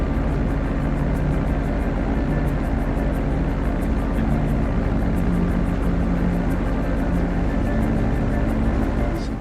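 Velum propeller plane in GTA V on final approach to a runway, its engine drone steady and loud throughout with a constant low hum and continuous broadband roar, no talking.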